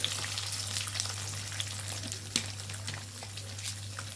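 Chana dal and urad dal fry in oil after mustard seeds, giving a faint, even sizzle over a low steady hum, with a few soft pops and one brief sharper crackle.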